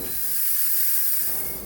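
A pressure cooker holding a lamb and potato curry hisses steadily with escaping steam, a loud continuous rush that stays constant throughout.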